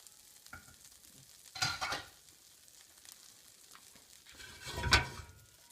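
Butter and flour cook in a pan still holding sausage drippings, giving a low background hiss with two louder bursts of stirring and scraping, one early and one near the end.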